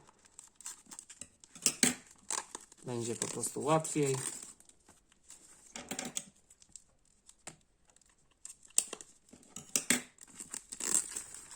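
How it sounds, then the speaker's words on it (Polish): Scissors snipping into the plastic packaging of a CD single, with crinkling and rustling of wrap and card close by, intermittent cuts between stretches of talk. "Ja sobie chyba to natnę nożyczkami, bo coś mi tutaj blokuje."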